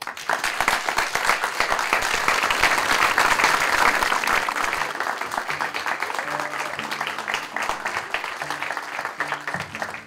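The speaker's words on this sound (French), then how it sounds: "Un tonnerre d'applaudissements pour eux." A thunderous round of applause from a theatre audience at a live magic show as volunteers head to the stage, dense continuous clapping that gradually thins out, with scattered voices underneath.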